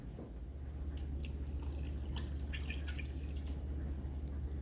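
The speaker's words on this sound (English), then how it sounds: "now we need to add just enough water to cover our beans" Water pours into a pot of beans for baked beans with bacon and onion, a steady splashing trickle over a constant low hum, with no one talking.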